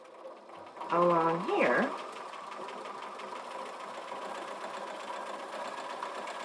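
A sewing machine stitches a quilt along its edge, with a steady mechanical whir running under a brief spoken remark near the start.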